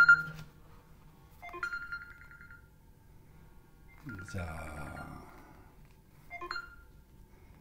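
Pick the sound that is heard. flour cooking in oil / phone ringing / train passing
phone ringing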